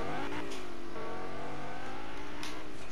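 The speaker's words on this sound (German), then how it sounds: "Einer fährt hier ein Auto." A car revs its engine and drives off, a loud, sustained mid-range motor roar with rising pitch that continues steadily and close for the whole stretch.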